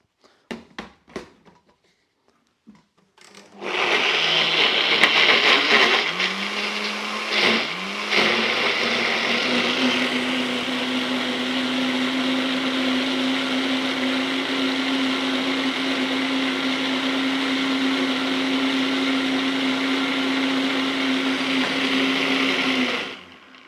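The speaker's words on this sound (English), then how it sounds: "all I have to do is just blend that all together" A blender whirs steadily for about twenty seconds, loud and close, pureeing corn, rainbow chard, avocado and lime hummus, after a few short knocks and a hesitant start.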